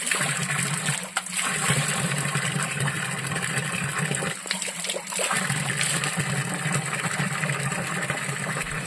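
Natural water flows and trickles steadily at an outdoor spring or stream, a continuous close splashing wash with a faint engine-like rumble underneath and a few brief dips.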